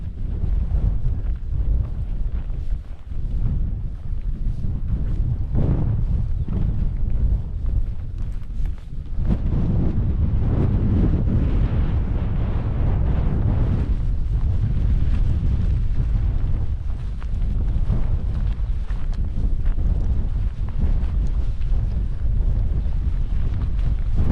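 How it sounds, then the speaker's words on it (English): Strong wind blows across an exposed tor, buffeting the microphone with a continuous loud roar that surges and dips for the whole stretch, with no voices. "Wee bit windy."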